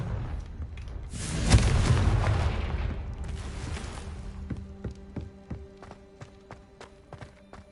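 A Confringo fire blast spell in Hogwarts Legacy erupts as a loud whooshing, crackling burst of about two seconds, then fades into a run of short, sharp impact clicks with faint game sounds behind it.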